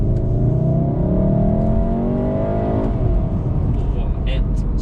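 A Volkswagen Golf R with a DSG gearbox revs its engine loudly and steadily, a rising drone that holds for several seconds before dropping back to a lower hum.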